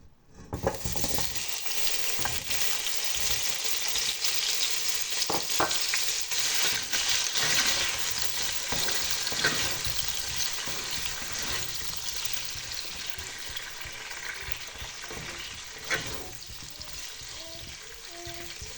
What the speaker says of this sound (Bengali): এখন আমি গাজর আলু একসঙ্গে দিয়ে ভেজে নিচ্ছি।